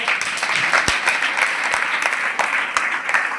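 An audience at a village gathering claps together for newly elected sarpanches, giving a dense, steady burst of applause throughout, fairly loud and close, with no speech over it.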